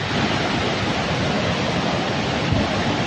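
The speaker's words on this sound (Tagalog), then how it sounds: "Ang lakas ng flash flood" Flash floodwater roars down Taytay Falls as a loud, unbroken rush of torrential flow, close and steady throughout with no voices.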